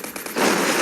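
Video game gunfire: a few quick shots rattle off, then a dense sustained burst of automatic fire, loud and close.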